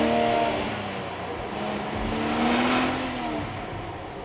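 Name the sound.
Ineos Grenadier BMW six-cylinder engine revving at full throttle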